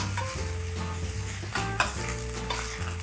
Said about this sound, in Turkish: Emaya olduğu için rahat rahat kaşıkla karıştırabilirim.